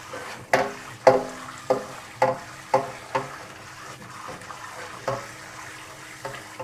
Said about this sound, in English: just going to rinse this wok out because I have some cornstarch on it